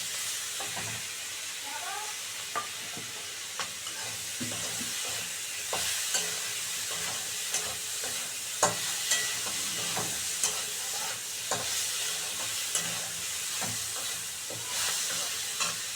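Onion and tomato fry in a pan for an okra (ladies finger) recipe, giving a steady close sizzle with light scraping and clicks of stirring throughout.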